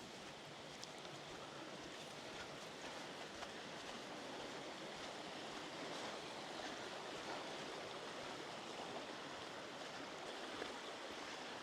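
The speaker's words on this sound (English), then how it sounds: "Not a lot of water in the river here at the moment, but there's various subsidiary streams come into it." A low-water river runs through Dhoon Glen on the Isle of Man, fed by small side streams, making a steady, faint, even rush of water with no voices.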